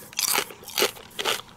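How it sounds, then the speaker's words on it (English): Loud close-up crunching of kettle-style potato chips, three bursts of crisp, crackly chewing at an even pace with no talking. "very crunchy. They are like kettle cooked, but they're not like kettle cooked."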